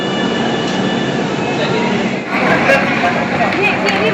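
Inside the Shipra Express on the run, with a storm and rain outside: a steady, dense rolling rumble and rattle fills the carriage throughout, dipping briefly midway, with some voices mixed in.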